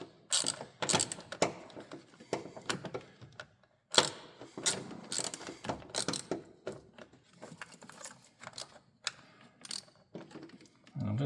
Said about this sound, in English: I'm just holding it here as I tighten it down